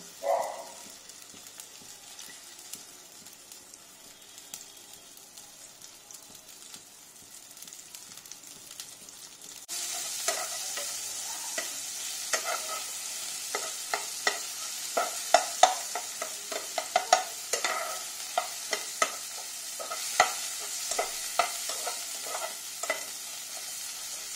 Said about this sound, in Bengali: যেটা বেটে রেখেছিলাম ওটা চিংড়ি মাছের সাথে ওটা একটু এর মধ্যে দিয়ে আমি নাড়িয়ে নেব।